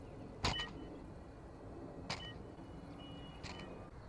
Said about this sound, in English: Dropping the bomb makes a distinct beep sound so that your opponents know that you just dropped the bomb on the ground.